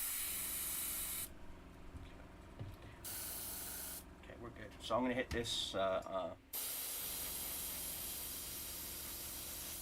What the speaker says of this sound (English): Let me do a quick spray test.